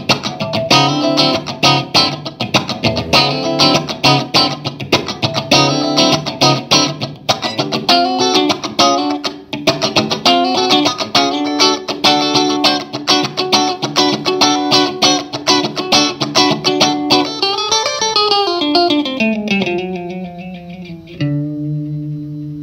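Electric guitar played clean through an amp for comparison of instruments, a continuous sequence of chords and melodic notes with a bend near the end, loud and alone, ringing out to a final note.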